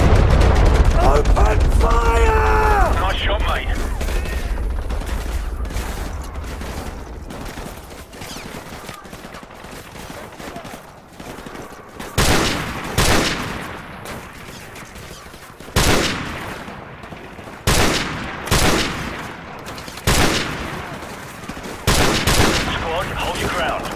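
Gunfire in the video game Call of Duty: Modern Warfare Remastered: after a stretch of rumbling battle noise, sharp loud bursts of rifle fire crack out in repeated volleys, each short and punchy, spaced a second or two apart.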